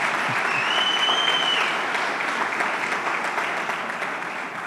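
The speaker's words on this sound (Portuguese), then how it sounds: "Vamos aplaudir mais forte" A church congregation breaks into loud, dense applause that holds steady for several seconds and tapers slightly at the end, with a brief whistle or cheer early on.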